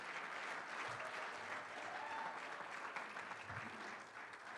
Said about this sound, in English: Give that a great round of applause.